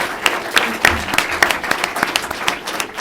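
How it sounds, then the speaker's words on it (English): A room of listeners at a panel on US democracy promotion claps for the panelists, a lively close burst of many hands with distinct sharp claps standing out over the crowd. "Let's have a round of applause,"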